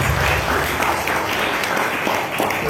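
An audience at a Javanese wayang performance applauds, a dense, steady wash of many hands clapping that holds at full strength from start to finish.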